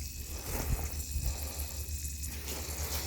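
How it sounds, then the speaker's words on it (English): Water running through a PVC irrigation drip line gurgles and hisses softly in a steady low flow with slight pulsing, close by. "Drip line's running."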